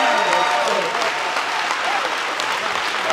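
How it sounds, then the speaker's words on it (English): A standing audience at an evening speakers' event breaks into steady, full applause, dense clapping close and continuous throughout with faint voices mixed in. "please get on your feet and give her a round of applause,"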